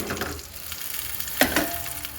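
Onion fries in oil in a pan that was just used to fry chicken, giving a steady close sizzle with a brief clatter partway through.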